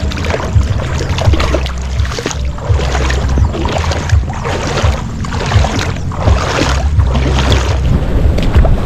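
A boat at sea is pushed along by a strong current, with a continuous loud rush of water and wind buffeting the microphone, and low engine-like rumble steady throughout.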